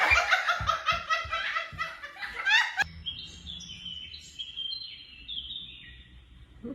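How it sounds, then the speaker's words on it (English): Laughter fills the first few seconds, then several birds chirp in short, high, repeated calls over a quiet background. "Ooh, birdies."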